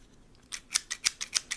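Thrifted scissors snip repeatedly close to the microphone, about seven crisp metallic cuts in a quick, even rhythm in a quiet ASMR setting.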